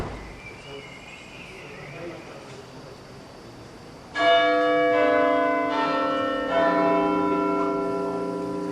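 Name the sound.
Great Tom church bell ringing at Lincoln Cathedral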